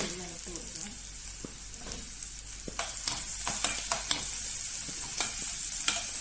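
Curry leaves, green chilies and onion go into hot oil with popping mustard seeds for ghee rice and chicken curry, giving a steady sizzle broken by sharp crackles and spatters as the pan is stirred.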